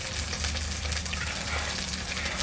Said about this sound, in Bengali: আদা রসুনটা আগে দিয়ে দেবো, এটা ভালো করে কষা নেব